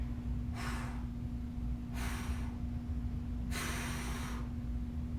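Three heavy breaths, each a slow airy rush, during a stick mobility workout, heard close over a steady low hum with no talking.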